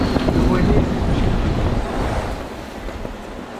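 Stormy wind gusts loudly across an anchorage with boats, a heavy buffeting roar mixed with waves that is strongest at first and eases slightly toward the end.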